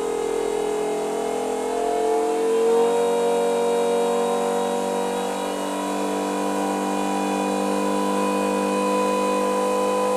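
A race-spec car engine runs during a bench-style RPM test, giving a loud, close, steady mechanical drone with a faint swell partway through and no voices.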